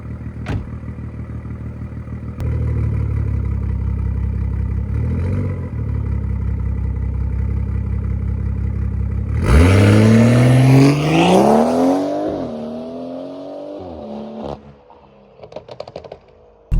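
A BMW 340i with a B58 engine running on E40 ethanol and a stage 2 high-pressure fuel pump launches hard. A steady idle gives way to a loud, rising rev that climbs through the gears, then the engine settles and falls quiet.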